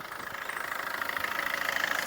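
A 2016 Suzuki Ciaz VDI+ engine runs at idle with a steady, rapidly pulsing mid-pitched hum, heard close and alone.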